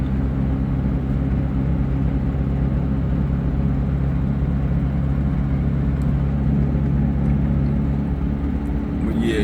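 A 1991 Mazda Miata with about 155,000 miles and plenty of track time, its engine idling smoothly as a steady, even low rumble that stays loud and close throughout without any voices.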